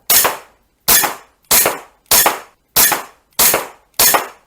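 A GHK Glock 34 gas blowback BB pistol with a steel slide and stiff recoil spring fires seven sharp, evenly spaced shots at close range, each ending in a quick clack, with nothing else heard between them.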